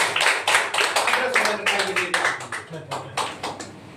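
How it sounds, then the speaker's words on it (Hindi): An audience claps their hands together in a steady, rapid rhythm, the claps close and fairly loud with voices mixed in throughout. "अपने हाथ से ताली बजाइए"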